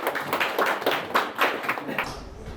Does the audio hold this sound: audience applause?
yes